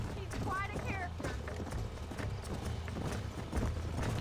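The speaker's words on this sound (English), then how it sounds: "Alright, I got a horse." Horse hooves clip-clop at a steady gait in Red Dead Redemption, a close, even rhythm running under continuous talk and game sound.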